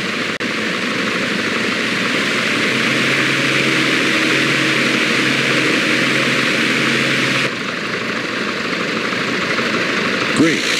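A steady, loud propeller drone from a simulated Piper J3 Cub light aircraft in Microsoft Flight Simulator. The tone shifts slightly partway through, and a brief whoosh comes near the end.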